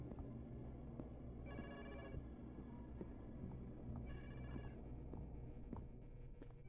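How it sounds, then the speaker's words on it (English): A phone rings inside the horror video game House of Lost Dreams, two distinct ring bursts separated by a pause, moderately clear over a low rumbling ambient drone. "This is a phone ring. You should probably try to answer"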